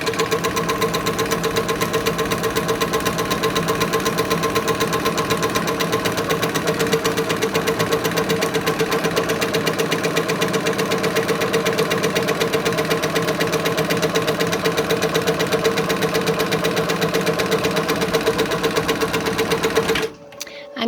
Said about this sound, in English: it's going to go back and do a zigzag and a satin stitch